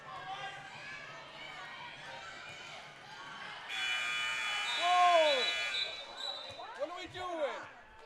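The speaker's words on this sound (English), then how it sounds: "And the buzzer sounds that time." The buzzer at a high school girls and boys basketball game in Estelline sounds for a couple of seconds, a loud steady tone over gym noise, squeaking shoes and crowd chatter.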